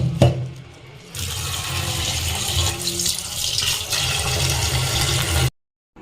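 Hilsa fish being washed under a running kitchen tap, with a steady close rush of water that starts after a brief clunk, holds for several seconds, then cuts off abruptly.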